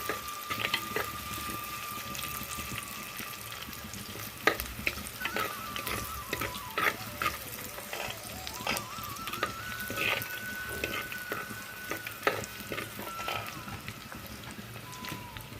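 Curry with tomato pieces and drumsticks cooking in a clay pot, a faint, continuous bubbling sizzle with scattered soft pops and occasional utensil taps.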